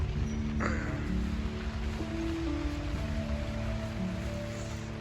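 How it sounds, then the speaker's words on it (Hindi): Continuous rain falls outside a shepherd's shelter at Dangair Bugyal, a high Himalayan meadow, as a steady, even hiss that fills the whole stretch with no break. "तो बाहर लगातार बारिश है"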